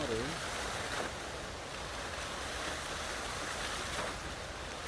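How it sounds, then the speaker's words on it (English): Water recorded through a microphone for a sound effect, a continuous broadband wash like surf or rushing water that stays even and moderately quiet for about five seconds, with a brief tonal trace at the start. "here's some water."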